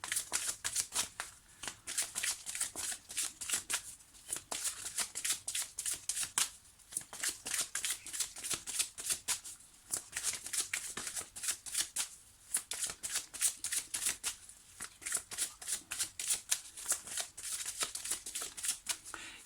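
Oracle cards are shuffled by hand in quick, crisp riffling bursts with brief pauses between them, close and fairly quiet with almost no talk.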